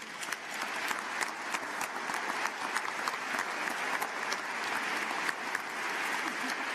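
Audience at a trade union congress applauding, a dense sustained round of clapping from a large hall crowd, steady and fairly loud throughout with faint voices mixed in.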